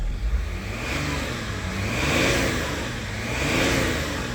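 BMW E39 525d diesel engine revved after a fuel pump replacement, a rough close-up clatter swelling in two slow rev surges and settling back between them, loud and without talking.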